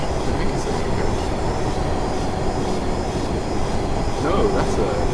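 A long 12-coach train rolls past in Train Simulator 2014, a steady loud rumble of wheels and carriages filling the whole stretch with a brief tonal swell near the end.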